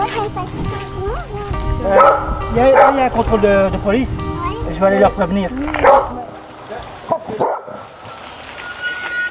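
A dog barks and whines repeatedly close by, yipping and whimpering under and between steady talk from a person.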